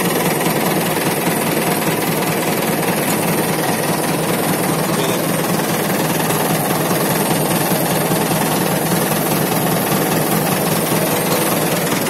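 A 1992 Mahindra 575 diesel tractor engine idles steadily and loudly, a constant rumbling chug with a rattling mechanical edge that never changes pace.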